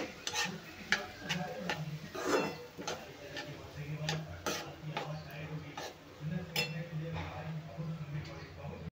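Onions fry golden in oil with a quiet sizzle under repeated stirring clinks and scrapes of a spoon against the pan, and a voice talks over parts of it.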